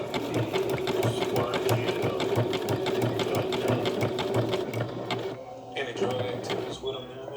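A sewing machine stitches around curves on an appliqué piece, its steady rapid needle chatter running loud and close with a brief slowdown near the end as the fabric is turned.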